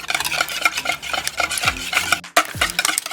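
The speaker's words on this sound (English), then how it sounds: "Now I'm just going to mix all of this together" Eggs, sugar, salt and vanilla for a brioche bread pudding being mixed in a bowl: quick rhythmic stirring and whisking strokes, close and fairly loud, with a brief pause near the end, no talking.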